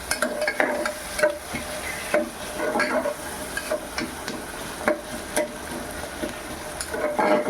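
Onion and tomato fry in a pan for khichdi, a soft continuous sizzle broken by repeated scraping strokes of a stirring spoon.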